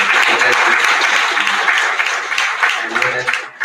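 An audience gives a round of applause at a chess tournament event. The clapping is dense and continuous and fades slightly toward the end, with some voices mixed in.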